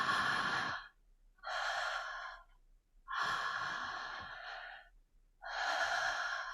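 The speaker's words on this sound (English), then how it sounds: "It's a silent ah on the inhale, a silent ha on the exhale." Long, airy breaths follow a slow rhythm in a breathwork exercise: an open-mouthed 'ah' on each inhale and a 'ha' on each exhale. Four close, steady breath sounds are separated by short pauses.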